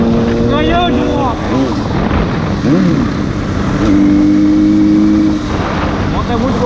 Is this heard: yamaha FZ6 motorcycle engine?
yes